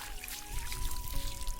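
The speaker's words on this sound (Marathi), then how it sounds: "हां ओतवायचं पाणी" Water trickles and pours steadily at close range onto a floor being plastered with cow dung, a continuous splashing stream with a faint steady hum underneath.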